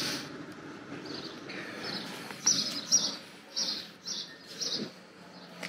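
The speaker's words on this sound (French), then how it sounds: "Et on entend mes potes les oiseaux." Birds sing outside a window on a walk at Bagatelle, with repeated bright chirps and short phrases at moderate distance over a soft outdoor hum and no talking.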